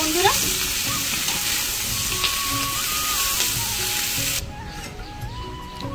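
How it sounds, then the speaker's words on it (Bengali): Malabar spinach leaves and stems with vegetables stirred in a hot frying pan, a loud, dense sizzle with scraping stirs that suddenly drops to a much quieter simmer near the end. "এবার আমি সব উপকরণগুলোই ভালো করে মিক্স করে নেবো"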